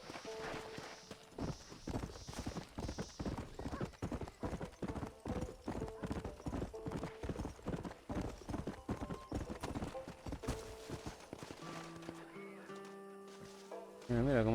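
A horse in the video game Red Dead Redemption trots with rapid, even clip-clop hoofbeats up close for most of the stretch, then the hooves stop and game music and tones take over, while voices talk over parts of it.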